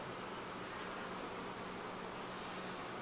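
Honey bees swarm and buzz around an open, healthy hive whose frames are filled and being capped, a dense steady drone close by with no voices.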